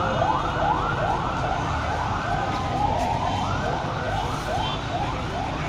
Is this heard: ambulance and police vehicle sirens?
yes